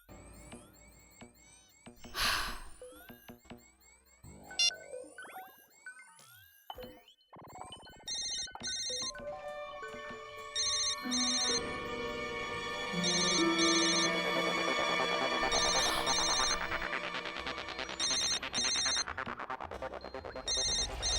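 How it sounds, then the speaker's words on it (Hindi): A mobile phone rings in a horror show scene, its ringtone starting after a few scattered clicks and knocks and swelling into a loud, sustained, layered melody with chiming tones, no talking over it. "फोन तो यहीं कहीं बज रहा है। कहाँ है?"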